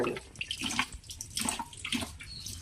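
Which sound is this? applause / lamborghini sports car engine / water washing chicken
water washing chicken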